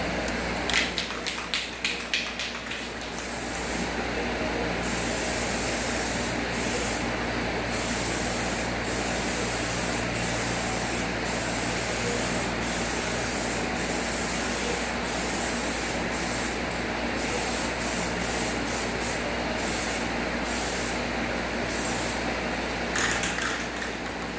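Steady aerosol spray hiss as trim paint is sprayed onto BMW E34 M5 car trim, a long continuous close-up blast broken by a few short bursts and clicks at the start and end.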